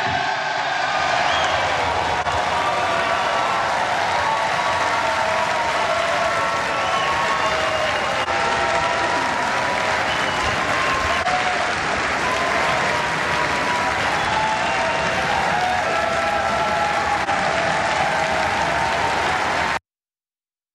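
Sustained loud applause fills the chamber of the U.S. House of Representatives after a Speaker is elected on the fifteenth vote, dense and continuous for about twenty seconds before cutting off abruptly.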